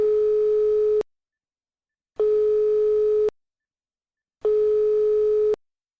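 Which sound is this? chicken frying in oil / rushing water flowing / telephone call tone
telephone call tone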